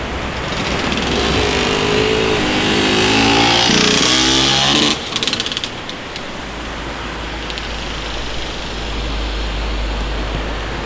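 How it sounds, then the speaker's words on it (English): Vespa scooters and motorcycles passing along a street in Ortigia, Sicily: a loud engine drone builds then cuts off, leaving a rushing wash of traffic and street noise. "A lot of Vespas, a lot of motorcycle noise."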